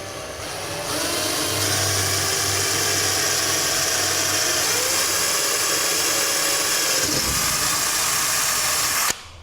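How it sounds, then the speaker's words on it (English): A power drill whirs steadily for several seconds, high-pitched and close, with its pitch shifting slightly as it bites through a hard kitchen splashback panel before stopping. "we're just going to drill through right on the center where our mark is."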